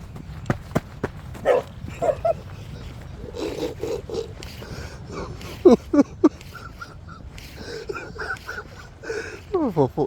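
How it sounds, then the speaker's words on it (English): A dog barks in bursts across a morning walk at the Attenborough nature reserve, the barks mixed with rustling, scattered bird calls and a person's voice nearby. "Stupid dog."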